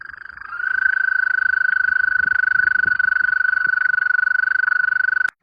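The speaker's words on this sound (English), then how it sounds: "I find American toads have a very unique, almost bird-like, chirping-like call." An American toad's long, steady high trill rings out loud and close, a continuous pulsing call lasting several seconds before stopping abruptly.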